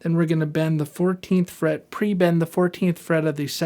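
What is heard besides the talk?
None of the usual background noises is heard.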